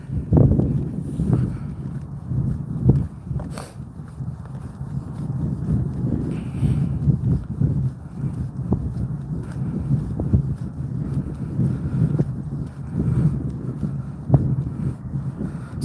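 Gusty wind buffets the microphone in low, uneven rumbles that swell and ebb throughout.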